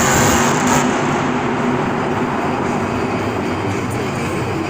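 Bounty Hunter monster truck at a Monster Jam stadium show: a steady, loud engine drone that holds a heavy broadband roar with no clear revving, and no talk over it.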